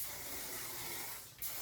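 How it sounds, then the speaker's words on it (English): Alcohol-free Sexy Hair hair spray misted onto curled hair, a steady close aerosol hiss lasting over a second before a brief break and a short final burst. "I just kind of spray"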